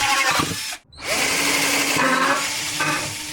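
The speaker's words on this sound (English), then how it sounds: "these up here are going to be a little bit tougher because I got to drill in an angle." A close power drill bores holes at an angle for a Corbin Tidy Tail fitted to a Zero SR/S motorcycle: a whirring burst, a brief pause, then a longer sustained high-pitched spin with no talking.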